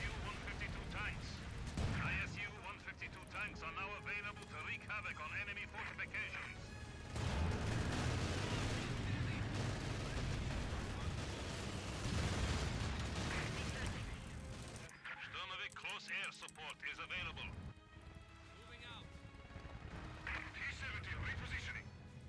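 Artillery and small-arms gunfire from an airstrike in Company of Heroes 2, with dense, continuous booms and crackling shots layered throughout, heavier rumbling blasts in the middle, and excited voices talking over the battle.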